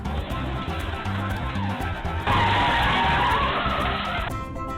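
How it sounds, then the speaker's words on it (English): A car skids and spins round several times in a crash on a rain-wet road, giving a loud, sustained broadband screech and rush that swells midway, with other steady sound running underneath. "the car got into an accident and rotated many times."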